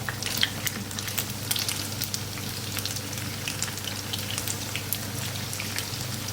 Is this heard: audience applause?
no